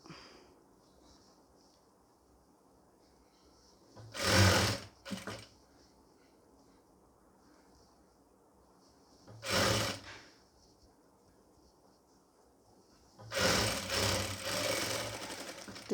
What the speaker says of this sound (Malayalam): കാലിഞ്ച് അകലത്തിൽ നമുക്ക് ഈ അറ്റം വരെ ഒന്ന് സ്റ്റിച്ച് ചെയ്ത് കൊടുക്കുക